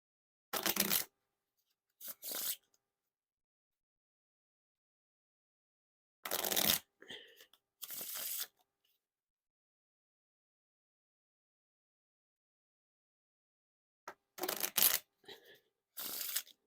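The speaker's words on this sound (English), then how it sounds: "Now to test the riffle shuffle or bridge shuffle." Blue Innovation playing cards by Black Ink, a thick-feeling deck, are riffle and bridge shuffled up close: three separate rounds of quick crisp ripping flutters, each followed by a softer cascade, with silent pauses between.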